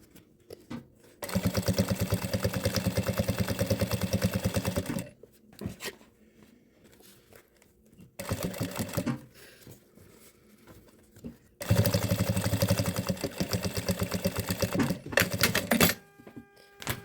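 A sewing machine runs in long, rapid stitching bursts separated by pauses, close and clear, as it sews quilted lining onto a zipper seam for a small quilted pouch.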